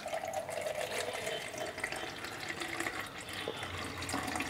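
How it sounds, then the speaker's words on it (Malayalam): Cold water poured into a bowl for lime juice, a soft continuous splashing and trickling stream, faint and close, with no talking. "അപ്പോൾ നമുക്ക് ഇതിലോട്ട് തണുത്ത വെള്ളം ഒഴിച്ചു കൊടുക്കാം"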